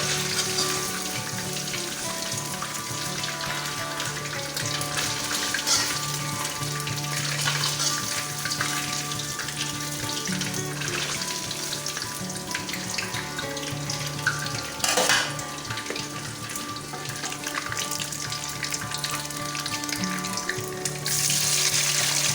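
Paneer cubes fry in hot oil for chilli paneer, giving a steady, dense sizzle that runs unbroken for over twenty seconds with faint clinks and stirring, close by, with no one talking.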